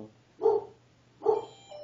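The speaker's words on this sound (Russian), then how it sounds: "собаки там залаяли" Two short barks from a dog, a little distant, sounding about a second apart with a faint steady hum beneath, heard during an online home Bible study session.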